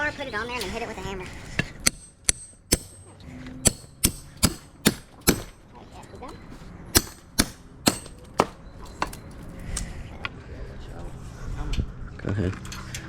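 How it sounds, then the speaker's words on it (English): Sharp metallic hammer strikes on a crowbar ring out in an irregular series, about a dozen blows, over low background noise and some nearby talk. "Take your crowbar, put it on there, and then hit it with a hammer."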